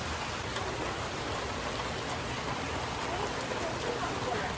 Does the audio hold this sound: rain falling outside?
yes